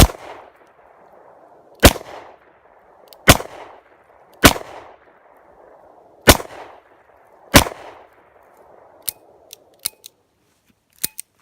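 Gunshots from a Smith & Wesson 686+ revolver with a 3-inch barrel, fired single action: five loud, sharp reports at spaced intervals, each with a ringing echo tail, followed by a few fainter clicks and taps.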